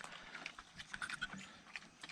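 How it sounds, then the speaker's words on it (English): Duroc pigs grunt and snuffle in short, irregular bursts at a farm, faint and close, with scattered rustling between the grunts. "just wanted to show y'all the little Duroc pigs I got here"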